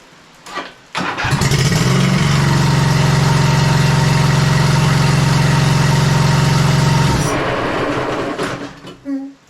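Husqvarna YTH2448 riding lawn mower from 2005 cranks and its engine catches, running loud and steady for about six seconds before abruptly cutting out, followed by faint handling noises.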